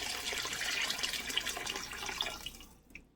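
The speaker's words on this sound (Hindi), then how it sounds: "तो सबसे पहले हम इसमें 1 लीटर पानी ऐड करते हैं।" Water pours steadily into a pot of nihari, about a litre, a bright close splashing stream that runs for nearly three seconds before tapering off and stopping.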